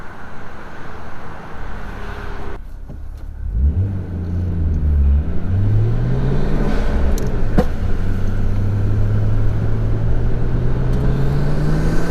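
Nissan R34 Skyline car driving, its engine rumbling and revving up through rising pitch sweeps over steady road noise, close and loud throughout.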